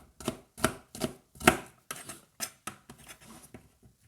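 A knife slices through onions on a board in a steady run of about a dozen crisp, close chops, each a sharp thud with a brief crunch, fading slightly toward the end.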